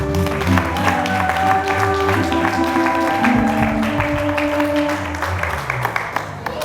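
A church wedding congregation claps and cheers in sustained applause, with music and voices mixed in, holding steady and loud before tapering off.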